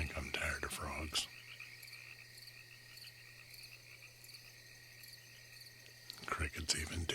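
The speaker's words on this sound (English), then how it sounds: "Crickets even too." Crickets and frogs make up a quiet ASMR ambience, a steady high chirping chorus over a low hum, with louder handling noises at the start and end.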